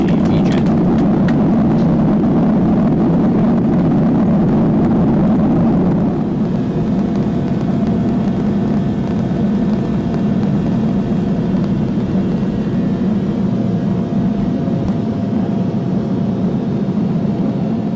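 An Air Inuit Boeing 737-200 jet on a gravel runway gives a loud, steady roar of engines and rumble that stays heavy throughout, easing slightly partway through.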